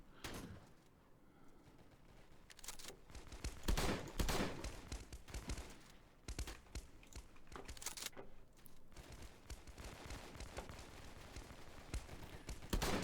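Bursts of gunfire from a shotgun and other weapons in the free-to-play shooter game Kuboom, a run of sharp repeated shots across the clip with no talk.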